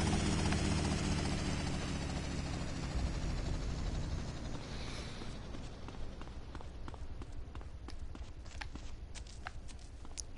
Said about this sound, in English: Alright, this should be a lot easier with the helicopter.